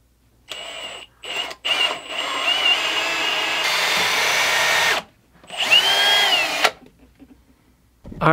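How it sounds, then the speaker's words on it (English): Power drill with a new pilot bit whirring in several bursts while drilling a pilot hole for a hose hydrant install, starting and stopping, with a sustained high-pitched whine while boring, then falling silent. "I'm gonna drill my pilot hole there."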